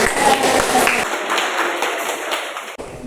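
Brief burst of clapping from a class of students in a university teaching session, loud and dense for about a second, then a thinner patter of claps that stops abruptly.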